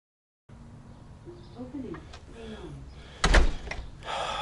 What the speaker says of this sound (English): Alexa, open garage door using code.